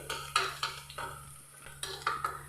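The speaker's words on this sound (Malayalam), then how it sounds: "ഇനി ഇതിലേക്ക് നമ്മൾ തേങ്ങാക്കൊത്ത് ഒന്ന് മൂപ്പിച്ചെടുക്കാം." A spoon scrapes and stirs coconut pieces roasting in a pan, with several distinct clinking strokes spaced irregularly over a faint background hum, no voices.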